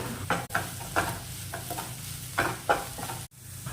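Scrambled egg is stirred in a pan with a spatula, scraping in irregular strokes over a continuous soft sizzle, with a short break near the end.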